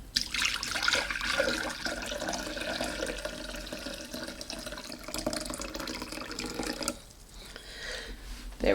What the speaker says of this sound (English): I'm going to pour this out to measure my 3 cups